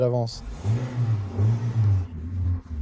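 A car engine rumbles low and steady, its pitch wavering slightly as the vehicle eases forward, close and fairly loud.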